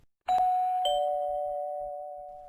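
A doorbell chime is rung twice in quick succession, the second strike overlapping the first as the bright electronic tone rings on and slowly fades, with no voices.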